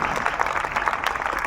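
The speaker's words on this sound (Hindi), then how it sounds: "तालियों की आवाज बहुत कम है।" Steady, dense applause from an audience at a national children's science fair prize announcement, honouring a first-place student; fairly quiet and continuous throughout.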